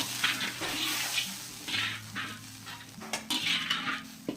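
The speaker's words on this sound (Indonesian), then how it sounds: "Kita aduk-aduk." A utensil stirs and scrapes through tauco sauce with water in a cooking pan for fried gourami and tofu, in repeated close strokes with a soft sizzle underneath.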